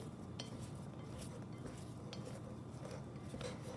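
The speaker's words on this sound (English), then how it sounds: "once you got your marshmallows in there, you're just gonna stir and stir and stir" Spoon stirring melting marshmallows in a pot for marshmallow treats, soft repeated scraping and clinks of utensil against cookware, quiet and close with no talking.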